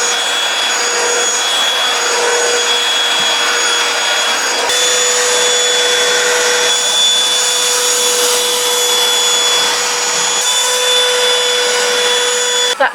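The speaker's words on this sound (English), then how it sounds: "I'll just put the hoover around quickly, I think, before I move the dressing table, chest of drawers over there." A hoover runs over a floor in a room being cleared of a dressing table and chest of drawers, its loud, steady motor whine droning close by without a break and shifting pitch slightly partway through.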